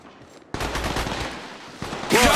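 Gunshots in Apex Legends ring out in a sustained rapid burst of automatic fire, loud and close, with a brief pause before a second sharper volley at the end.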